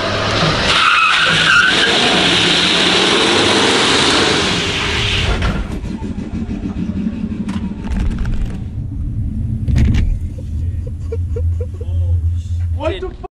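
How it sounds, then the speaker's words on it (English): A truck doing a burnout, its engine roaring and tires squealing and skidding loudly up close for several seconds, then the engine dropping back to a rumbling idle with voices talking over it. "I did a burnout and then went."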